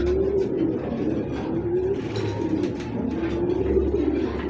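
A saddle pied racing pigeon coos in low, rolling repeated calls close by, over a steady bed of ambient noise.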